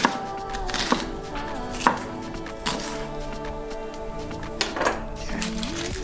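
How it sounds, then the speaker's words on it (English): Knife chopping food into pieces on a cutting board while making chicken pot pie, with sharp, irregular knocks of the blade over a ringing background, fairly close and without talk. "we're gonna just cut it into decent sized pieces"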